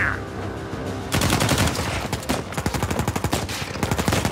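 Automatic gunfire in Uncharted 4 erupts after a quieter opening and rattles in rapid, loud bursts of closely spaced shots, with short pauses between volleys.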